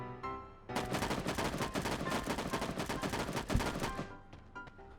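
Rapid bursts of M4 assault rifle fire in a shooting video game, a dense run of sharp repeated shots lasting several seconds, loud and close, then stopping abruptly.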